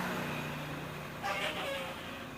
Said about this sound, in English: Got to make it to this gap before this truck comes.